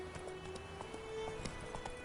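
Roach, a horse in The Witcher 3 video game, gallops with a steady rhythmic clip-clop of hooves close by, with a few sharper hoof strikes and no talk over it.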